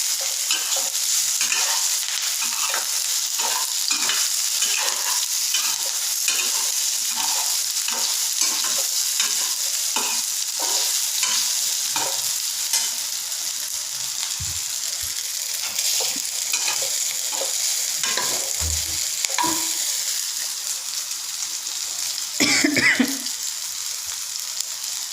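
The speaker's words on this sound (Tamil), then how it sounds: "வெங்காயம் நல்லா வதங்கினதுக்கப்புறம் நம்ம அவிச்சு வச்சுருக்கக்கூடிய அந்த கொழுக்கட்டையை சேர்த்து நல்லா கிளறணும்." Boiled kolukattai dumplings being stirred into fried onions in a pan, with a steady sizzle and repeated scraping strokes of the spoon throughout, close and fairly loud.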